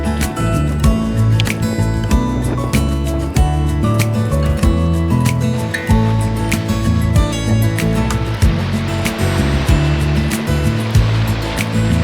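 Sea waves washing against an island shore, loud and close, with a steady surging roar and repeated breaking swells and no voices over it.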